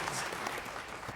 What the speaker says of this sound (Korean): 영광의 박수로 하나님께 드리겠습니다